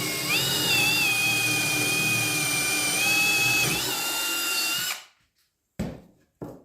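A drill press spins a Warrior titanium nitride bit through wood: a loud, steady whine holds for about five seconds, cuts off abruptly, then two short bursts follow.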